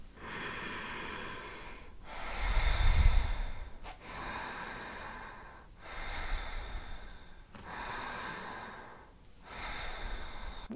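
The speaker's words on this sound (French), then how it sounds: "J'exagère intentionnellement ma respiration pour que ça puisse bien s'entendre dans le micro" Deliberately exaggerated, loud breaths during a breathing exercise, long inhales and exhales alternating in slow cycles, close to the microphone with nasal, airy texture and no talking.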